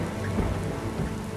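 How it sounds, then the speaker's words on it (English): Heavy pounding rain falls steadily in a dense, unbroken roar with a low rumbling underlayer, close and loud throughout with no pauses. "3 days of pounding rain."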